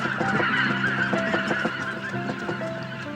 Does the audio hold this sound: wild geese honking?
yes